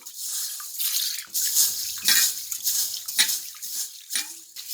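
Green gram lentils are washed by hand in water, with repeated close sloshing and swishing bursts and small trickles at an uneven pace, and no voices.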